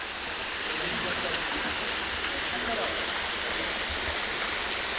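A waterfall pours over rocks in a continuous, even rush of white noise, close and unbroken throughout.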